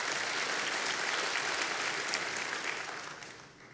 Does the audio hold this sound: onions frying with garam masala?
no